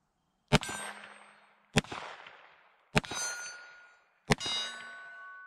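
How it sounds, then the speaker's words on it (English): A Taurus 605 revolver fires four shots at a steel target plate from about 12 to 13 yards, each sharp crack followed by a bright metallic ring that fades, evenly spaced about a second apart. "Let's go ahead and shoot some more rounds through this."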